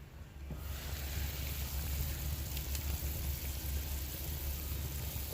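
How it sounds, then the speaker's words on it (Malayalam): Broccoli boiling hard in water in a covered pot, a steady close rumbling bubble and hiss that holds evenly throughout with no talk over it. "വെള്ളം നല്ലതുപോലെ വെട്ടി തിളയ്ക്കുന്നുണ്ട്."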